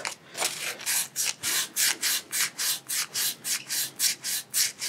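Rhythmic sanding strokes with 400-grit wet sandpaper, about a dozen even back-and-forth rubs in steady succession, close and clear, with no talking.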